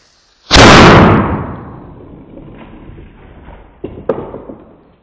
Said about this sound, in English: maybe we'll fire off another shot or two